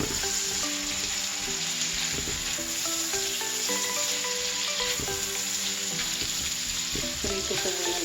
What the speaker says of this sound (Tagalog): Prito ko muna na itang maluta yung sibuyas.